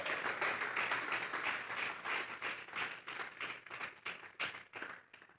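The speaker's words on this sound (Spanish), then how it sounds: "Vamos a regalarle ofrenda de palmas al Dios de la gloria." A church congregation claps together as an offering of praise, a dense, sustained run of many hands applauding with a quick, uneven rhythm that thins toward the end.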